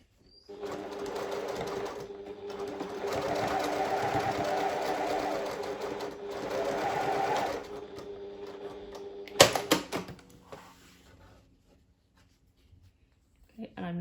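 A sewing machine runs in two long bursts, stitching across the center seam of a fabric pouch, then stops; a few sharp clicks and handling knocks follow near the end, and someone speaks over parts of the run.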